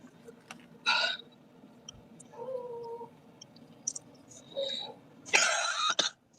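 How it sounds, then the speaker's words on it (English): Several short, dry coughs and throat-clearing sounds come in separate bursts, with quiet pauses between them. "this dry cough"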